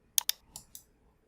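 Four quick, crisp clicks from a computer mouse, two close together and then two more spaced apart, sound in a quiet room while buttons are pressed in a trading-robot software window.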